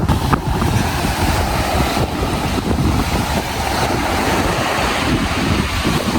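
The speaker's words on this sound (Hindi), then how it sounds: "लहरें भी बहुत तेज़ है" Strong sea waves crash and churn on a Phi Phi Island beach in a stiff wind, a dense, continuous roar of surf and wind buffeting close to the microphone, with no talking.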